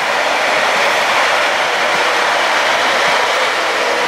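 A Koleje Mazowieckie train passing through Łowicz Główny station, a loud, steady rush of wheel and rail noise that stays constant for several seconds with no voices.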